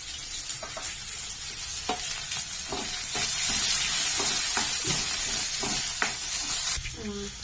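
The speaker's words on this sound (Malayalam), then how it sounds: "വേപ്പലയും കൂടെ ചേർത്ത് ഒന്നും കൂടെ ഇളക്കിയെടുക്കുന്നു" Garlic, ginger, green chilli and curry leaves sizzle and fry in a pan while being stirred, giving a steady close crackle with scraping stir strokes throughout.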